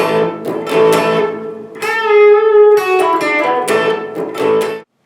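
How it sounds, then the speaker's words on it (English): An electric guitar plays a variation on the Grateful Dead's Jack Straw melody, with bent notes on the second string in the middle, played loud and close with no talking, then cutting off abruptly. "the third melody you can play during the second part sounds like this."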